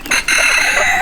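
A dun mottled rooster lets out a short, loud crow close by, one brief harsh call lasting about a second with no talking over it.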